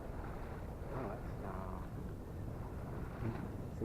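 Wind blows aboard a Catalina 22 sailboat on San Francisco Bay, a faint steady broadband rush with soft gusty swells, no voices.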